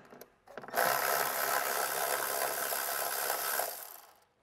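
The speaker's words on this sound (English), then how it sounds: "And now we can undo those 10 mil bolts." A ratchet spins rapidly and steadily on 10 mm bolts during an air spring replacement, one continuous loud clicking whir lasting about three seconds after a few short starting clicks, then stopping.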